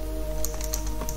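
Several quick, light key clicks on a computer keyboard come close and clear over a low steady hum, as a short terminal command is typed.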